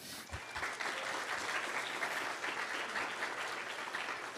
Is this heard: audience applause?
yes